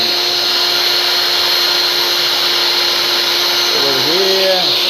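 A power drill whines steadily at high speed while a drill bit is worked in a mechanical workshop, loud and continuous, with the pitch dipping briefly near the end as the bit bites.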